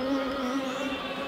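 Dense, steady buzzing of honeybees in a full hive, a close continuous drone with no other sounds.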